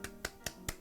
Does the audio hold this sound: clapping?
yes